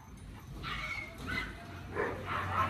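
A small hostel dog and a golden retriever fight, giving several close yips and barks with growling and whimpering in bursts over a low background rumble, with no talking.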